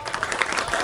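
A comedy show audience claps at a stand-up set, a brief burst of dense, even applause from a crowd lasting under a second.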